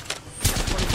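Enemy gunfire aimed at the player in the Predator video game, a loud rapid volley of close shots that starts abruptly after a brief quieter lead-in and keeps rattling to the end.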